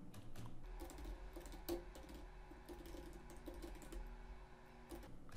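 Rapid clicking of a computer keyboard as a command is typed, quick irregular keystrokes close up and faint, continuous across the stretch with no voice.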